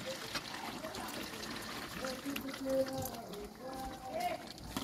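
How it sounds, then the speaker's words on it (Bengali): Spiced water trickles from a container into duck meat cooking in a pan, a faint liquid pour under someone talking nearby. "এই মশলার জলটা দিয়ে দেবো আমি"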